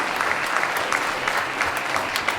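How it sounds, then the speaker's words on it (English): Audience applause for the professional dance teams at a summer dance intensive studio showcase, a steady wash of many hands clapping throughout without a break. "our teams, a nice big round of applause."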